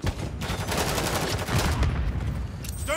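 Video game gunfire rattles in rapid, dense bursts, loud and continuous over a few seconds, with brief gaps between volleys.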